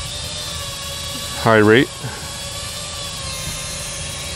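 A Simtoo Moment selfie drone flies nearby with a steady, high motor and rotor whine throughout, and someone speaks briefly over it.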